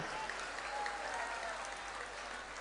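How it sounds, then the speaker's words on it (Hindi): An audience at a Bageshwar Dham Hanuman katha religious gathering claps for the local journalists, a dense, even patter of many hands heard somewhat distant and soft, lasting throughout. "एक बार यहां के पत्रकारों के लिए ताली बजा के धन्यवाद दो।"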